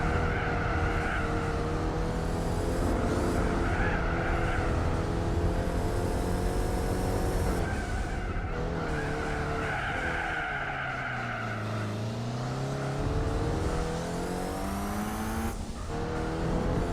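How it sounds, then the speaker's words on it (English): Race cars roaring and skidding in a Gran Turismo 4 video game race, with loud continuous engine drone and rising, falling pitch sweeps as they corner and shift. No talk over it. "I'm in the middle of a high-speed race."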